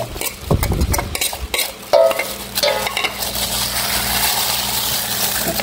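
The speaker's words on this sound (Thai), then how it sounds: "จะมาคนลาบเครื่องในใส่ไปเครื่องในที่เราผัดไว้" Pork offal laab being stirred in a pan, with scraping and clattering of a utensil through the meat and a low hiss, steady and close, with no talking.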